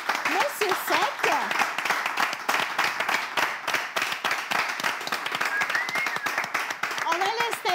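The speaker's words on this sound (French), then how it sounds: "on va quand même applaudir et accueillir ici Monsieur Sec" Sustained audience applause and clapping welcoming a guest onto a stage, dense and steady throughout with a few voices calling over it.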